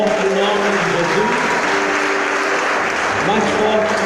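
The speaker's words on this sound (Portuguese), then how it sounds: "Aplaude bem forte o nome de Jesus." A church congregation applauds loudly and continuously, a dense wall of clapping with voices mixed in beneath it.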